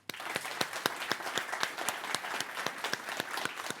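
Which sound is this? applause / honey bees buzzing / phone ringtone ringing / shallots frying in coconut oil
applause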